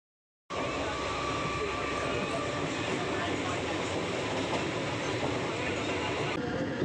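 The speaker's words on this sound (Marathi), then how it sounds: "रत्नागिरी स्पेशल ट्रेन आत्ता जस्ट माझ्यासमोर चालली आहे" The Ratnagiri special train rolling past a station platform, a loud continuous roar and rumble of wheels and carriages starting abruptly and holding steady up close.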